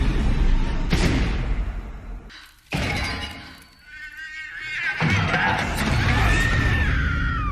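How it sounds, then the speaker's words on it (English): A creepy, drawn-out scream from a horror film rises amid loud crashing and shattering glass. It cuts off briefly and then returns as a wavering shriek over dense, noisy chaos. "that scream was creepy"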